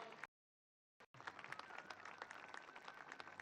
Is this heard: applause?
yes